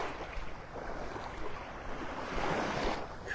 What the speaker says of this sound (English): Sounds of these little waves lapping up on the shore.